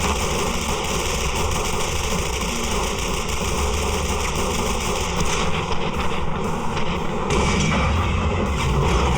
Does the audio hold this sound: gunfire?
yes